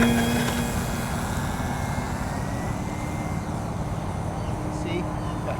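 An XR-52 electric RC airplane takes off, its motor and propeller giving a steady buzzing drone that fades slightly as it climbs, while someone speaks over it.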